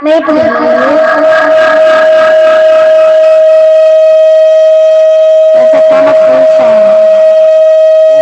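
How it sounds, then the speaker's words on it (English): A loud, steady siren wail holds one sustained tone for the whole stretch, with a voice talking underneath. "It's like a siren."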